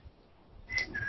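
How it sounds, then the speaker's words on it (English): A person whistles, a short high clear tone rising out of near silence, then a second brief whistle right after, close and fairly soft, with no talk. "I'm gonna whistle"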